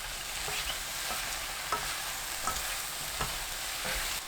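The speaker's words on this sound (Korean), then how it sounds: "양송이버섯 넣고 센 불로 1분 30초 볶습니다" Button mushrooms stir-fry in a pan over high heat: a close, steady sizzle with regular spatula strokes knocking about every second, and no voices.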